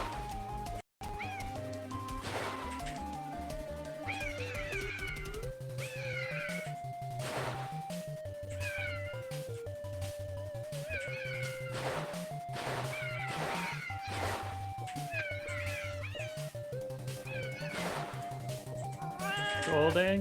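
Cartoonish cat meows from a video game chime repeatedly over a busy, continuous game music soundtrack, with short bright calls recurring every few seconds throughout.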